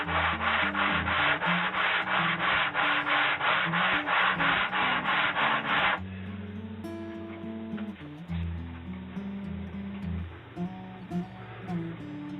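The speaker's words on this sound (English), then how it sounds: "I've sanded the sides of it now" Rhythmic sanding strokes on the sides of an ebony guitar fretboard rasp back and forth close up for about six seconds, then give way to quieter background music.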